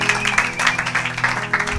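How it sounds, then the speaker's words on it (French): A church congregation applauds during a sermon, with steady, rhythmic clapping that rises and falls in close bursts and a faint hum of voices or music underneath. "Acclamez pour la gloire de notre Dieu."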